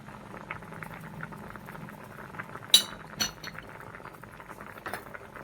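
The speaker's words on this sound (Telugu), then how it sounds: "టీ కలుపుకుందాము" A spoon clinks against a cup while tea is stirred, a few sharp metallic taps over a low bubbling background, close and without talk.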